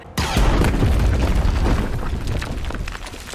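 A loud, deep explosion blows something up in an animated episode of The Bad Batch, bursting suddenly and then rolling on as a long, rumbling roar that slowly fades over a few seconds.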